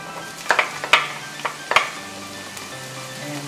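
Onions go into a hot pan where the meat for bopis is already browning, setting off a close, bright sizzle punctuated by several sharp scrapes and clatters of a utensil, then settling into a steady frying hiss.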